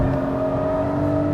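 A Porsche 718 GTS 4.0 flat-six engine on a racetrack holds a loud, steady droning note in second gear at the end of a straight, with a continuous mechanical hum close up.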